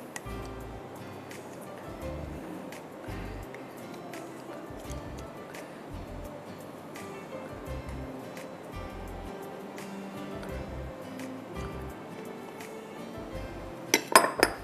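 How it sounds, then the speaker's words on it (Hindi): Cream goes into a bowl in a home kitchen, setting off faint clinks of utensil against bowl that run steadily through the stretch, with a sharper cluster of metallic clatter right at the end. "बकिया क्रीम जो है मैं एक बोल में डाल दूंगी"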